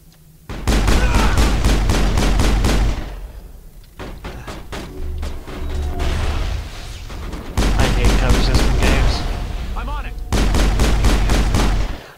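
Shotgun fire and other weapon fire in the Mass Effect video game during a close-range firefight, coming as four loud bursts of rapid, repeated blasts separated by brief lulls.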